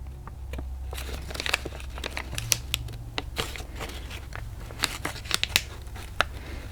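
Paper packaging being folded up by hand for a junk journal craft project gives close, crisp crinkles and rustles with sharp papery snaps scattered irregularly through the stretch, over a low steady hum and with no talking.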